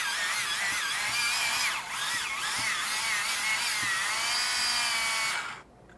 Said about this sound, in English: It takes about 5 attempts to countersink before you get a hole that's wide enough.